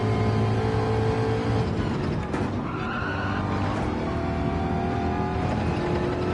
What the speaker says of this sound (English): Engine bogged down then.